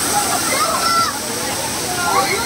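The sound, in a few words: water pouring down at Atlantis waterpark, Dubai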